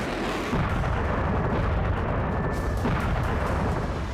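Explosions from attacks on Ukrainian cities, captured in war news footage: a heavy continuous rumble of blasts and booming, loud and sustained, with no voices.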